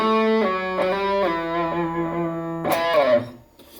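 A bright, distorted electric guitar with a thin, trebly tone plays a few sustained notes, then strikes a fresh chord that rings and fades.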